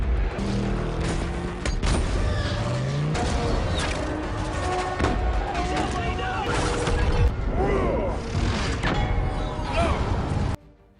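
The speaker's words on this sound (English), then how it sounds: "There are dozens of explosions in his action movies, usually one after another, repeating, endlessly." Explosions in a Transformers action film follow one another in a dense, loud run of booms and crashes over a busy soundtrack, with no one speaking.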